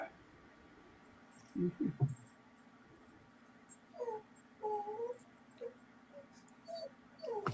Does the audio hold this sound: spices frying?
no